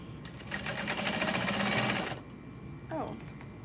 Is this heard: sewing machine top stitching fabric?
yes